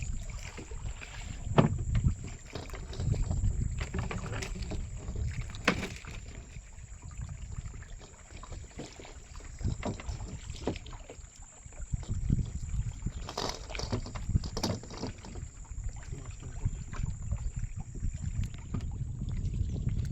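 A small boat moves through water in a mangrove forest near Marichjhapi, with irregular nearby paddle splashes and water knocks against the hull over light wind, and no talking.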